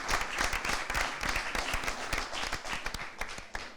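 Studio audience applauding loudly and steadily for a contestant on a French-language television game show, dense hand claps continuing for the whole stretch.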